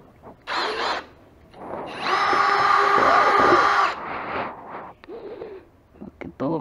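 A power drill bores a hole for a light bulb socket in a small homemade quail egg incubator, whirring in a short burst and then a longer steady run that winds down, close by.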